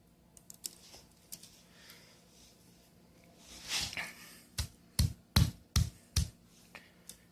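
Small plastic skids from an RC Blade Nano CP X helicopter crumpled by hand, giving a scatter of faint crackles early on, then a cluster of about six sharp, close crinkling snaps near the end, with no talking.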